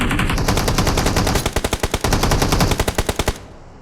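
Rapid automatic gunfire in PUBG Mobile rattles in quick bursts, loud and close, with a brief stretch of separate, evenly spaced shots before the firing cuts off.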